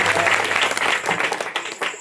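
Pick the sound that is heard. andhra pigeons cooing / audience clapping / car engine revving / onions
audience clapping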